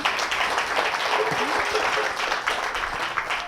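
A church congregation at a New Year night of prayer and worship claps loudly together, with steady, dense applause filling the hall throughout.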